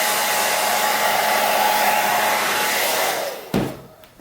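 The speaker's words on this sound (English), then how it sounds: "how to melt it easily just using a hairdryer" A handheld hair dryer blows a loud, steady whoosh while melting wax into a Fjallraven G-1000 cotton garment, then switches off near the end with a brief clunk.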